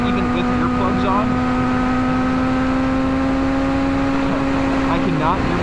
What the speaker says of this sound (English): ZX6R here, and this exhaust is really loud.